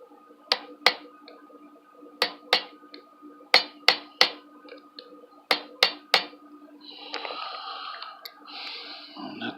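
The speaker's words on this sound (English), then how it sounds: "give the broad side, the fat side, a couple of good whacks with your punch" A punch is struck to seat the trigger spring on a PSA AK-47, producing a dozen sharp metallic taps in quick pairs and clusters, close and crisp, followed by softer handling rustle.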